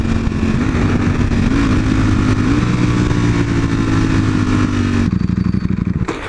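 A motorcycle engine runs with a steady low drone, then cuts out abruptly as it stalls, leaving a few faint rattles. The sound is close and loud.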